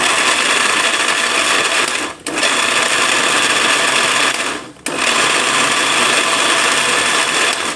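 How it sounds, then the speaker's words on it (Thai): An electric blender grinds chili paste ingredients with a loud, steady whirring roar that briefly dips twice as the motor pauses or the load shifts, with no talking over it. "เตรียมเครื่องมาปั่นเลยนะคะ"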